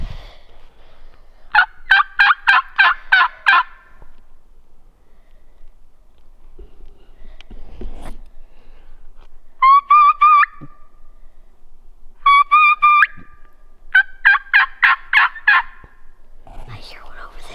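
Wild turkeys gobbling outdoors on public land during a hunt, several loud rattling gobble bursts coming in separate groups with quiet gaps between them, fairly near and without talk over them.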